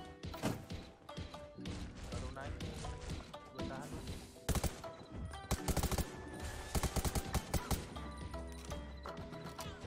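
A Gatling gun in the Undawn shooter game fires in rapid bursts of loud, rattling automatic fire. Clattering impacts and game effects surround it.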